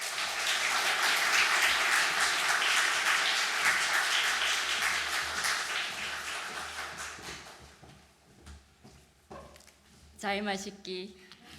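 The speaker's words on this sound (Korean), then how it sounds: "우리 김하영 집사님 나오실 때 큰 박수로 환영하겠습니다" A church congregation applauds loudly to welcome a deacon to the front, dense clapping that swells then thins and fades, followed by a voice speaking through a microphone at the end.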